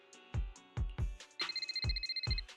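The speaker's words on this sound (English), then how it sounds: "the phone rings again" A phone rings in a video game, a ringtone that repeats steadily as a series of electronic trills, each paired with low thumping beats.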